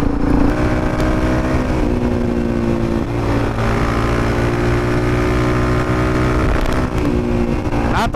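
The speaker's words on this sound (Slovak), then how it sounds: "Ukáže, na čo je vlastne tento typ motorky určený." A Suzuki DRZ supermoto motorcycle runs on the road, a loud, close, continuous engine drone with shifting pitch as the rider rolls on and off the throttle.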